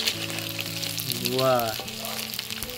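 Chicken pakora deep frying in oil in a Sundarban village kitchen bubbles and sizzles steadily up close, with a brief spoken exclamation rising over it midway.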